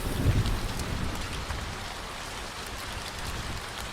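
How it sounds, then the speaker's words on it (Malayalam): Steady rain falls outside, a dense continuous hiss of drops on surfaces with a low rumble near the start, even and unbroken with no voices. "മഴയാണല്ലോ"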